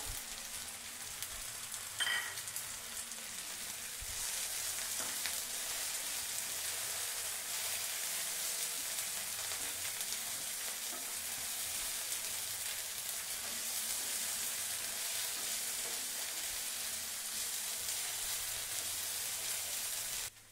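Chopped carrots and beans drop into a hot pan and fry with a steady, crackling sizzle that continues evenly, close by and moderately loud, with no talking.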